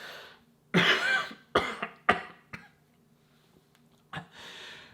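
A person coughs several times in short harsh bursts, a heavy fit followed by a few sharper single coughs and a final cough with a breath, close and alone.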